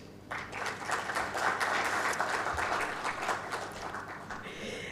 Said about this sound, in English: So please, a little attention and applause if you wish.